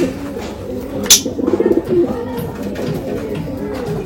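A Rampuri pigeon, an old breed, coos in a short rolling burst near the middle, close by, with a brief sharp clatter just before and steady low room noise throughout.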